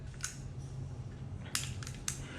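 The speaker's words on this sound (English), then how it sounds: "Pop your mag." A Desert Eagle .50AE pistol's magazine is released with a few quick, close metallic clicks and clacks, one near the start and a cluster of sharper snaps toward the end, over a low, quiet room hum.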